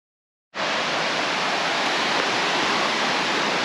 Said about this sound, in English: So we're at Laurel Falls now.